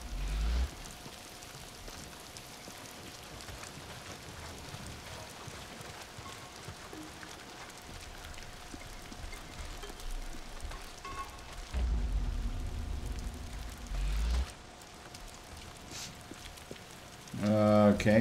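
Steady rain patters continuously on a surface in the video game Days Gone, with low rumbles and occasional speech breaking in over the downpour.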